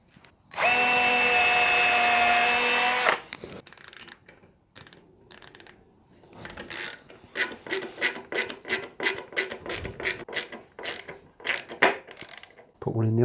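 A drill drives small screws into a tenor ukulele build, one long loud whirring run followed by a series of short, rhythmic ratcheting pulses and clicks, close by with no talk.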